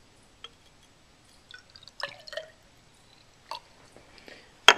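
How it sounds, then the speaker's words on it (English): Water poured into a glass measuring cylinder, aiming for the 10 milliliter mark: soft, sparse splashes and drips in a few short bursts, close and fairly quiet, with no talking. "First, I'm going to pour the water in."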